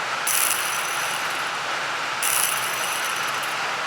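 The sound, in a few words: metal lure propeller spinning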